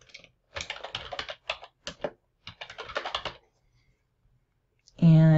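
Quick bursts of typing on a computer keyboard spell out a name in a browser setup screen, with crisp close key clicks in several short runs separated by pauses, followed by a brief loud tone at the end.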